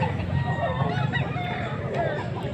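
A young rooster, a full stag under a year old, crows amid steady background clucking and fowl noise at a Pampanga hatchery, with people talking nearby.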